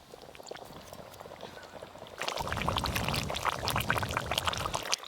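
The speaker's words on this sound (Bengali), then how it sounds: "ভেজে রাখা সিলভার মাছ এই গ্রেভির মধ্যে একটু ডুবিয়ে দেব, দিয়ে ভালো করে ফুটিয়ে নিলেই রান্না হয়ে যাবে।" Fried silver carp pieces slipped into a simmering yogurt gravy: quiet bubbling gives way to a louder, sustained wet splashing and sizzling as the fish goes in, close and without talk.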